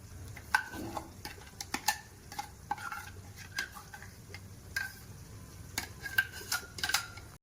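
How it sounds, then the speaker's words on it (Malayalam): Ground masala being stirred into boiling chicken curry in a pan, with light scraping and clinking of a spoon against the pan in irregular bursts over a soft bubbling background. "മസാല എല്ലാം കൂടി ഇട്ട് ഇളക്കി നല്ലോണം ആക്കി വെച്ചിട്ടുണ്ട്"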